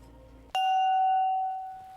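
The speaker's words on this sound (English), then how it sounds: "All right, let's have the little gong knock." A small gong knocked once, a sharp strike followed by a bright, sustained ringing tone that holds strongly and then slowly fades, loud and alone.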